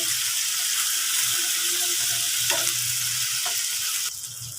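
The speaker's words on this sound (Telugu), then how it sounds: "మంచి అల్లం వెల్లుల్లి పేస్ట్ అయితే ఆయిల్లోనైతే మొత్తం ఫ్రై అయ్యేంత వరకు అయితే వేయించుకోవాలి" Ginger garlic paste frying in hot oil for a home prawn tomato curry, giving a steady, close sizzle with faint stirring and soft clinks throughout, no voices.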